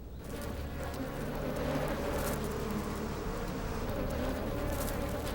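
A dense, steady buzzing of many bees, loud and continuous throughout with no pauses.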